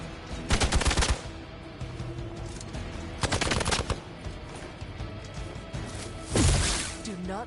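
Automatic weapon fire in the video game Marvel's Midnight Suns: three separate loud rapid-fire bursts, close up, with softer game effects between them.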